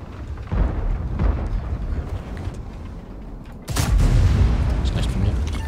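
A tank's main cannon fires in World of Tanks, a single heavy blast striking near the four-second mark and rising out of steady engine rumble and battle noise, the boom's echo holding loud to the end.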